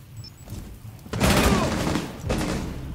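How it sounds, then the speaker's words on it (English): Grenades go off on a staircase in Rainbow Six Siege, a loud blast around the midpoint with a rumbling tail and a second burst just after, cutting through quieter game noise. "They're throwing grenades down the stairs."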